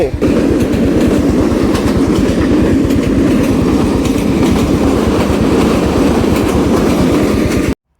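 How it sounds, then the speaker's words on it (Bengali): A train passes close by, loud and steady, with fast rhythmic clickety-clack of wheels over the rail joints filling the whole stretch before it cuts off abruptly. "ট্রেনও চলে আসছে"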